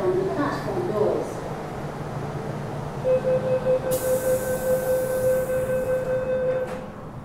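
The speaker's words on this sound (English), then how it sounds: "The train to Taiwan is arriving." A subway train rumbles steadily along, then a rising whine and hiss join in as it slows arriving at Admiralty Station platform, with faint announcements in the background.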